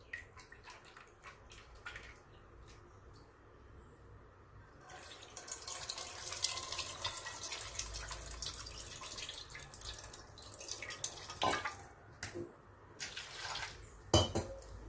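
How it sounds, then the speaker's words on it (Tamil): Dissolved tamarind water poured into a cooking pot while making sambar in a home kitchen, a soft splashing trickle with small clinks of a vessel, moderately quiet and alone with no talk. "கொஞ்சமாக இருக்கிற புளியை கரைச்சி அந்த பாத்திரத்தில் ஊற்றிக்கணும்."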